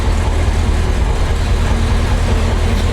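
Alvis Saladin armoured car engine idling: a steady, loud, low rumbling drone with an even throb, close by and unbroken for the whole stretch.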